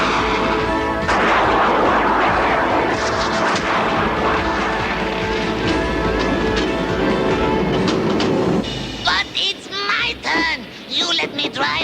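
An animated train runs on rails, its loud steady rumble and clatter filling most of the stretch before cutting out near the end, where short bursts and a voice take over.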